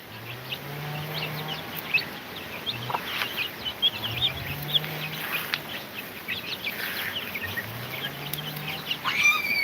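Chickens cluck steadily, a hen with her chicks, with repeated low clucks and sharper peeping calls close by, alone with no talk.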